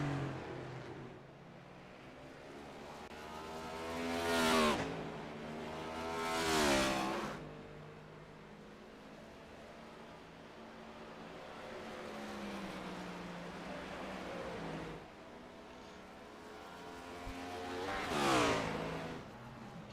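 Race cars circulate at Watkins Glen International in a sim racing game, engines whining and rising in pitch as several cars sweep past in loud passes over a steady background drone of more cars on track.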